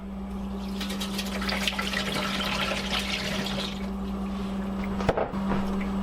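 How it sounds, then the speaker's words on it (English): Water pours into a cooking pot holding a turkey, a continuous splashing gush at moderate level over a steady background hum, with no voices. "Now you put in your water."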